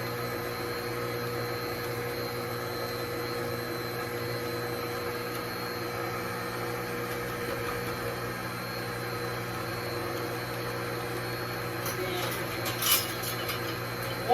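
An electric mixer beats sugar into pound cake batter with a steady droning whir throughout, close and even, with a faint clatter near the end.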